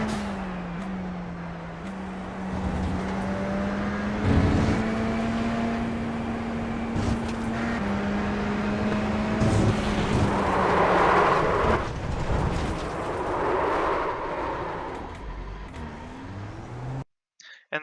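A Radical race car circuit at Donington, heard from on board: a steady engine drone holds pitch and shifts up and down through gear changes, with whooshes of passing traffic and wind roar, no talking.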